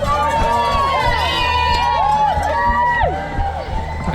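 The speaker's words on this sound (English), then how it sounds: "The Macmillan cheer team." A crowd of spectators cheering and shouting for runners passing at a race, with a cheer team among them, loud and continuous close by.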